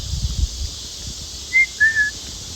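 A person imitates a whistle heard outdoors at night, two short rising whistled notes near the middle, the second longer, over quiet background rustle and low rumble.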